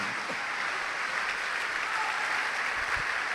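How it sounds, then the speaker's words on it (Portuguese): A church congregation applauds during a sermon, a steady, moderately loud wash of many hands clapping that carries on evenly without any voice on top. "Vamos aplaudir o Senhor."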